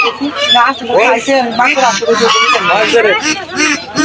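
Ducklings and poultry at a rural weekly market in Bangladesh, sold in pairs, with dense overlapping honks and clucks from many birds close by, continuous throughout and mixed with talk.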